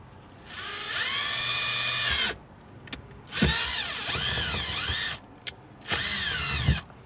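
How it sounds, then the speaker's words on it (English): A power drill bores two holes into a vehicle panel, starting with a small bit: three loud, sustained whining runs with rising and falling pitch, separated by short pauses and small clicks. "we're going to drill two holes here"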